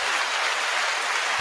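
Applause from an audience at a live rap event, a steady dense wash of clapping that fills the whole moment with no voices over it.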